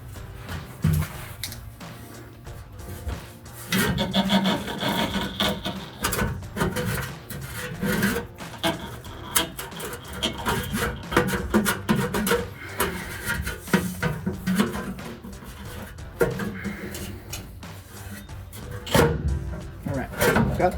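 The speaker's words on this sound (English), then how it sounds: "Got the tailpipe out of the hanger that it has." Tailpipe on a 2015-2020 Ford F-150 being worked free of its single rubber hanger: repeated scraping, rubbing and metallic rasping close up, continuing through the clip with brief louder knocks.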